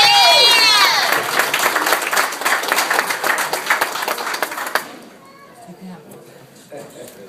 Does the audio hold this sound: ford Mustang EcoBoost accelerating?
no